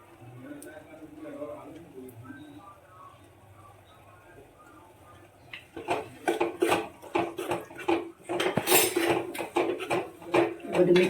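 Manchow soup vegetables are stirred in a pot with a spoon, producing repeated scraping and clinking strokes that grow louder and quicker in the second half, with a voice talking over the stirring.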